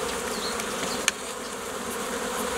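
Bees buzz steadily around a brown-coloured hive in a beekeeping yard, a dense continuous hum close by with one brief sharp tick partway through and no talking.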